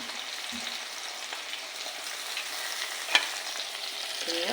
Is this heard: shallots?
yes